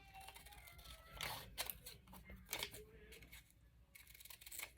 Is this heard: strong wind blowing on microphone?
no